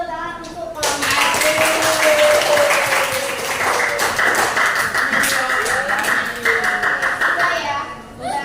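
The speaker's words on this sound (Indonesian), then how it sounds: "Beri tepuk tangan untuk kelompok" Schoolchildren in a classroom clap together for a group, a steady burst of hand claps lasting several seconds, with voices calling out over the clapping.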